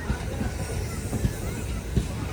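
Amrit Bharat special train running between Renigunta and Katpadi, heard from inside a general coach: a steady low rumble and hiss of the carriage with faint rhythmic wheel thumps and a murmur of voices in the background.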